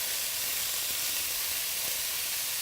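Garam masala spice blend hitting hot oil for a vegetable pulao, giving a loud, dense, unbroken hiss of sizzling throughout.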